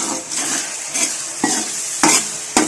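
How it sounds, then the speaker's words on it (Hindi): Spices stirred and frying in a pan with oil for aloo gobi matar, salt, red chilli powder and turmeric sizzling steadily under a few sharp scrapes of a spoon against the pan, close and alone. "मसाला अच्छी तरह से भून लेंगे।"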